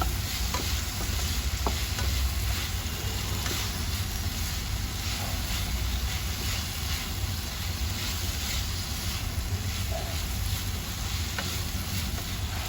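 Okra (bendi) fry with peanuts sizzles steadily in a pan while being stirred, a loud constant frying hiss with occasional light scrapes of the spoon.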